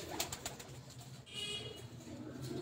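Red-eyed Mamdeen pigeons on a rooftop loft softly cooing, low throaty coos repeating close by amid faint rustling and background noise.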